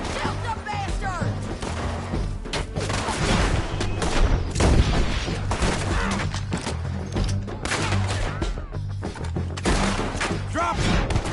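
Dense gunfire from a Red Dead Redemption 2 shootout, loud overlapping shots and thuds cracking steadily through the whole stretch over a busy game mix, with shouted voices mixed in.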